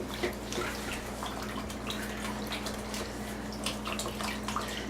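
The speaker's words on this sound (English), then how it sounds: "So I'm just putting the hat into the hot water, and then you just really scrub it." A wool hat being scrubbed in hot water for hand felting gives a steady wash of sloshing, splashing water with small drips and rubbing noises, close and unbroken, with no voices.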